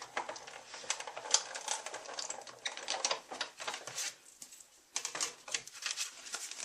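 A die-cutting machine cuts black cardstock with a rapid, uneven run of light clicks and rattles. It sounds close and fairly quiet, pauses briefly near the middle and then starts again.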